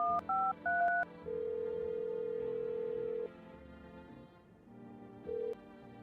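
Telephone keypad tones beep in a quick burst of paired notes in a video game, followed by a long steady dial-type tone, a brief pause, then another short tone over a low background hum.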